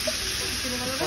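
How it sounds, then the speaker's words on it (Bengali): Cumin seeds sizzle in hot oil as they are tempered for a soybean curry, a steady, close, bright hiss with faint talk barely present underneath. "তেলের মধ্যে চলে যাচ্ছে এখন জিরে ফোড়ন চলে গেল"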